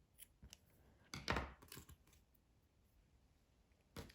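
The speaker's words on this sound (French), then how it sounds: "Et maintenant, je peux couper le fil au bord." Scissors snip yarn at the edge of a crochet scarf made from a single ball, giving a few short, quiet, close cuts separated by pauses.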